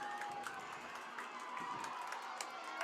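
The crowd at a high school boys soccer semifinal, East Longmeadow against Longmeadow, makes a constant murmur of voices with faint shouts and claps mixed in, all at moderate distance.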